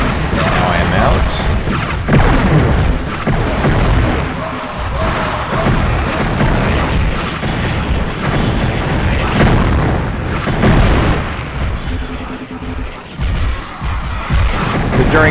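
Time bombs going off in the game Heretic, on the Jade Baths map, throw repeated loud booms and blasts amid busy combat noise, with someone talking over much of it.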